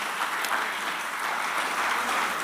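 Dense applause from a large church congregation fills the space, a continuous bright wash of many hands clapping at once.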